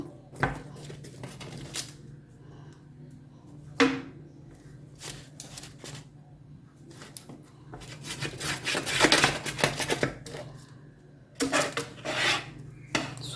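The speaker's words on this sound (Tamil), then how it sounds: "இப்போ கட் பண்ணுறேன் பாருங்கள்" A knife cuts through a freshly baked homemade chicken bun, with scraping, rasping strokes and knocks of a blade against a tray or board, in irregular bursts of moderate loudness.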